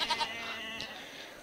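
A few short goat bleats from the Minecraft mod Jurassicraft sound at the start, then a fainter bleat follows amid a steady background hum.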